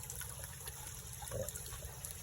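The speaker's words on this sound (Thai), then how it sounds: "ทำน้ำตก เป็นฟักตัวตัวอ่อนนะครับ" A small artificial waterfall in a golden apple snail nursery tank trickles and splashes softly and steadily, close by and quiet, with no voices.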